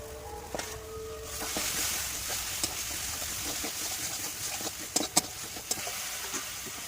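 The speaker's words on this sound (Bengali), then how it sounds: "ঝিনুকগুলো নিয়ে আর একটু কষিয়ে নেব।" Oysters frying in a thick spiced masala, a steady close sizzle with scattered clicks and stirring scrapes, a few sharper knocks near the end.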